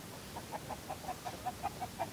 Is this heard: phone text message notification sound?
no